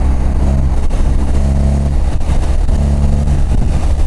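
A 2026 BMW R1300RT sport-touring motorcycle cruises and pulls in 6th gear near 4,000 RPM at about 79 mph, a loud steady engine drone with pulsing tonal harmonics and wind rush, no speech.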